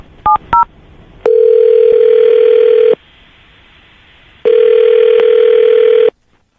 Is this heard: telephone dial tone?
yes